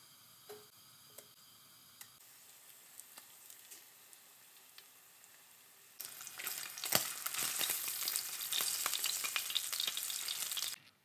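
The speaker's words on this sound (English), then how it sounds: "Let's heat up the pan and sizzle some bacon" Plant-based bacon rashers sizzle in a frying pan, a quiet crackle at first that surges into loud, dense frying with steady popping and spitting from about six seconds on, close and with no talk.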